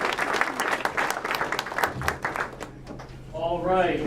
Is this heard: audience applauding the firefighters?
yes